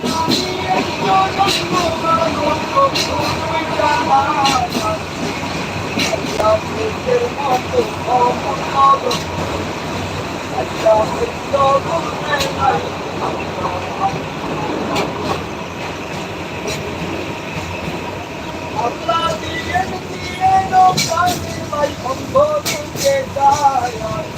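A train travelling through Dhaka past the Nikunja residential area makes a continuous rumbling, rattling ride noise with irregular clatter and rises in loudness throughout.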